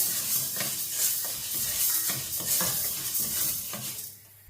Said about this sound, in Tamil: இப்போ பார்த்தீங்களா பயறு வந்து நல்லா வறுபடுது பாருங்க.